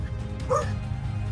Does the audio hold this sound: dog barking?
yes